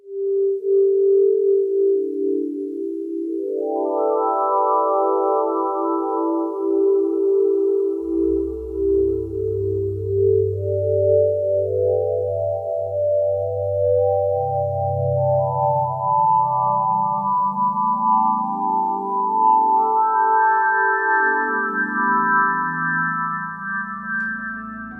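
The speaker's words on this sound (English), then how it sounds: "this is the sound of a supernova" A NASA sonification of a supernova, a dying star, made of smooth electronic sine-like tones that glide and step upward in layered lines, with a lower sliding voice entering partway and rising beneath, steady and loud throughout.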